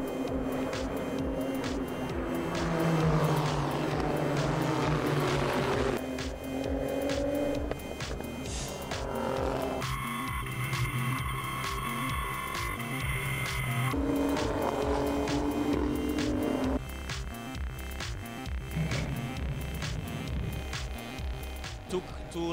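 Renault Sport Trophy race cars at Spa howl past with shifting engine tones and changing pitch through several passes, under steady commentary talk.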